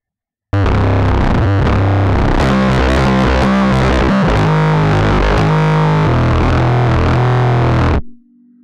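Heavily distorted synth bass growl built in FL Studio, a dense, gritty, continuous tone with shifting wobbling formants for about seven and a half seconds, loud and alone, cutting off abruptly.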